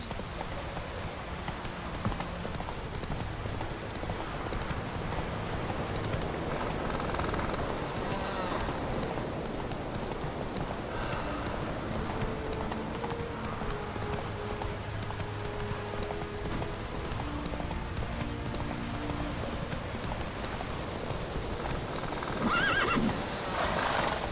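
Roach, a horse in The Witcher 3, galloping with steady hoof clip-clop and giving several neighs and whinnies over ongoing background sound, with occasional voices.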